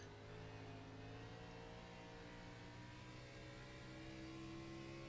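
Onboard a race car, the number 80 driven by Brian Littleton in an LEC NextGen Series race at New Hampshire: a loud, steady engine drone, held evenly throughout with no voices.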